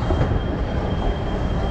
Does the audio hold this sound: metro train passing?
yes